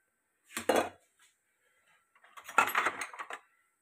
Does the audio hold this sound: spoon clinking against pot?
yes